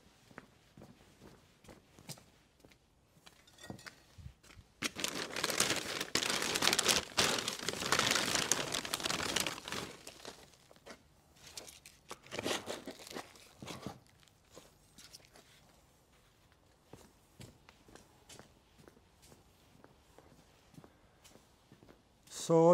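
Loose bonsai compost mix, a standard blend, rustles and crunches as it is scooped and handled close by, with a dense burst of crumbly scraping in the middle and lighter intermittent handling noises around it.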